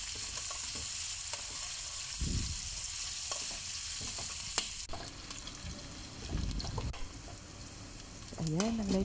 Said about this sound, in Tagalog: Isusuti lang po natin yung ating onion hanggang mag light brown.